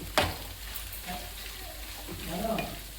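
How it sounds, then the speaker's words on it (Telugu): Chicken pieces frying in a small amount of oil for chicken pickle, a steady close sizzle with a few sharp pops and stirring scrapes, no speech over it. "చక్క దీన్ని ఎర్రగా వేగనిచ్చుకుందామండి."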